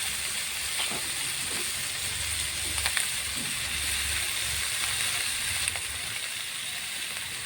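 Taki fish fries in a pan with onion, chili and garlic, a continuous loud hissing sizzle with a few sharp crackles and no talk.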